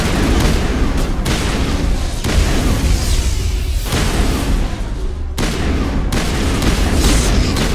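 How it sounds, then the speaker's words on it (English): Heavy explosions and booming gunfire in the Mass Effect video game, loud and continuous with dense overlapping blasts and a few sharp breaks between bursts. "Explosions happening, I can't see a thing."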